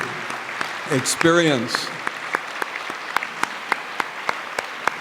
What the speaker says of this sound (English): let's give everybody a big applause